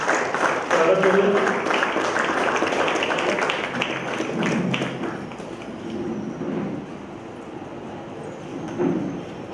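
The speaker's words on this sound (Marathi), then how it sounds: "जोरदार टाळी आपण" An audience at a Marathi award ceremony applauds as Rahul Malgaonkar is welcomed and honoured with a young entrepreneur award. The clapping is dense and steady at first, then thins and softens, with voices mixed in.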